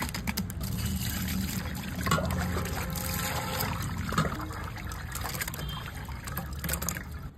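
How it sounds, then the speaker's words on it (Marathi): Cut pieces of chicken liver are rinsed in clean water, giving a continuous close splashing and trickling with soft sloshing movements throughout. "आपण आता तिला एक स्वच्छ पाण्याने परत एकदा धुवून घेऊ।"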